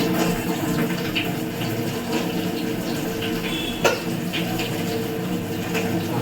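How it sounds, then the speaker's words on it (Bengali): Water being poured into a pan of pabda fish curry: a continuous rushing, splashing pour that runs steadily throughout with one brief knock partway through. "জল দিয়ে দেবো"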